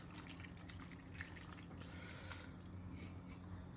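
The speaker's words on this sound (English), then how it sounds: "We're just gonna add a cup of water." About a cup of water poured into a cooking pot of pepper steak, a faint, steady trickling stream heard from a short distance with no talking.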